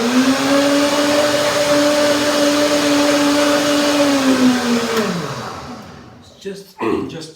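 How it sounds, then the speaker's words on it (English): A blender whirs steadily and loudly for about five seconds as it mixes a turmeric cashew dressing with added salt. The motor then winds down and stops, and a few words of talk follow. "short blending."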